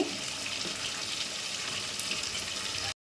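Two cut tomatoes rinsed under running water while cooking a hyacinth bean curry: a steady, close wash of flowing water lasting the whole stretch, then cutting off abruptly at the very end.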